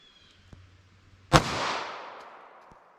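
One sharp, loud 9mm pistol shot from a 3.2-inch M&P barrel firing Freedom Munitions X-DEF ammunition cracks out after a quiet low hum, followed by a long fading echo outdoors.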